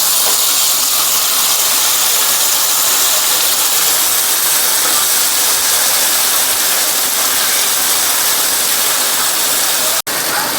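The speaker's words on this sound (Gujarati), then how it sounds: "તો હવે આપણે તેમાં પનીર ફ્રાય કરશું।" Paneer fries in hot oil with a loud, continuous sizzling hiss that stays even throughout. A single sharp click sounds near the end, and no one talks.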